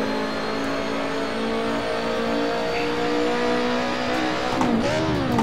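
A race car engine in Assetto Corsa revs hard and continuously after a missed shift from fifth into third, its strained drone rising and falling near the end as the pitch sweeps.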